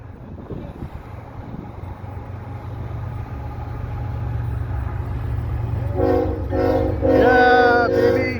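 An eastbound CN mixed freight train rumbles through Beaconsfield in winter, its low roar building steadily before the horn sounds several loud, sustained blasts near the end.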